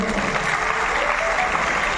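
Audience applause fills a concert hall at a music program, steady dense clapping from a large crowd throughout, loud and continuous with no speech over it.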